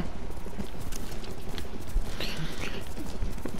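Horse hooves clip-clop in steady rhythm while riding in Ghost of Tsushima on PS4, mid-level under a continuous game ambience, with someone talking briefly over it.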